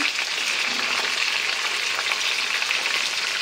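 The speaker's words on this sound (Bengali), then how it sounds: "চিকেন ভাজতে শুরু করে দিয়েছি।" Constant, dense sizzling of chicken frying in hot oil, close and fairly loud, with no voices.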